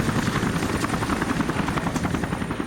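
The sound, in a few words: Apache helicopters flying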